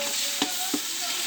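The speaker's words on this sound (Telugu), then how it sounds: "అలాగే కొంచెంగా ఉల్లిపాయలు వేగుతున్నాయి." Onions and green chilies fry in a pan for a coconut pulao, giving a steady, close sizzle, with two brief scrapes of a stirring ladle.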